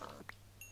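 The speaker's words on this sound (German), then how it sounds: "Diese Schweinesounds." Pig grunt in the Minecraft video game, a single short, moderately loud grunt heard over a quiet background hum, followed by a faint high tone.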